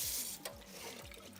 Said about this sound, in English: all of that dirt just runs through your colander and into your sink